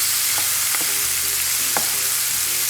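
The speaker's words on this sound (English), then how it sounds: "I added half a pound of ground beef, and then I seasoned it all with a Turkish-Spiced blend. So I'm gonna go ahead and let that cook." Half a pound of ground beef seasoned with a Turkish spice blend fries in a pan, a steady hiss with a low hum underneath and a few sharp scrape clicks from stirring.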